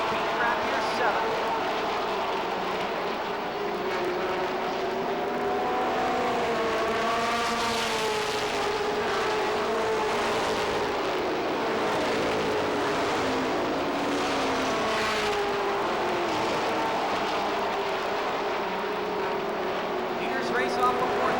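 Race cars at USA Speedway in a 1990 Winston Cup stars race roar steadily past, engine tones rising and falling as the field circles, with a commentator talking over them throughout.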